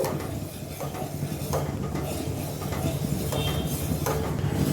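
Milk curdling in a pot while making paneer at home, stirred continuously with a spoon, giving a soft scraping swirl and faint bubbling, close and steady, without speech.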